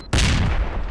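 A grenade blasts in the shooter game STALKER: one sudden, loud, close explosion that cuts in after a brief quiet moment, then a rumbling, crackling tail that slowly dies away.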